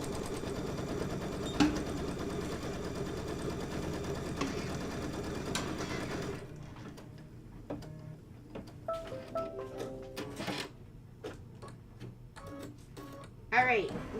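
An embroidery sewing machine stitches a quilt block, a steady mechanical whir for several seconds that gives way to quieter intermittent ticks and clicks, with speech heard alongside.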